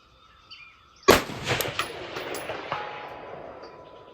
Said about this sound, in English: Give me 3 shots from that.